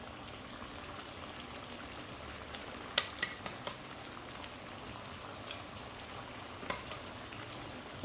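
Spice paste goes into chicken frying for a masala bhuna, producing a soft, continuous sizzle with scattered crackling pops, a small cluster of them midway and a few more near the end.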